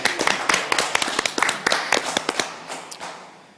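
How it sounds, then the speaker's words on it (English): Scattered clapping from a small audience at the 2021 New Zealand Virtual Assistant Awards, with sharp, uneven claps that thin out and fade over a few seconds. "big round of applause"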